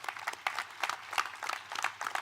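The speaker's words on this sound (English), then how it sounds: "I'll request you to give him a big clap on my behalf at least." Audience clapping at a university summit inauguration ceremony in Pune, a quiet, uneven patter of hands that rises and falls in brief bursts for about two seconds.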